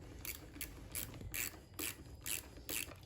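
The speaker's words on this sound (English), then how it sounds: "you're gonna take your 13mm wrench and just tighten it up" Ratcheting 13mm wrench tightening a bolt on a Badland ZXR 12k winch: about six short, evenly spaced bursts of quiet mechanical clicking, close by.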